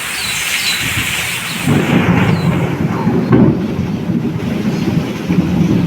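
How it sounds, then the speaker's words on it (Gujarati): Deep rolling rumble of thunder, following lightning, builds and lingers over steady rain, loud and close, slowly fading toward the end. "ઓહ વીજ થયો"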